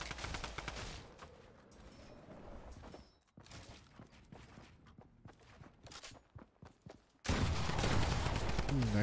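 Gunshots crack in Fortnite Battle Royale, a clustered volley of sharp shots and rapid bursts separated by short gaps and footstep-like taps, ending in a loud dense stretch of fire, with voices talking in between.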